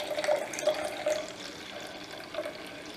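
Wine pours into a glass at a small home tasting, a soft trickling liquid sound with a few brief gurgles, quiet and close, with no talking.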